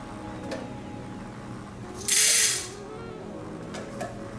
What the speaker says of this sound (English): I'm just gonna do a little bit and kind of peek at the grind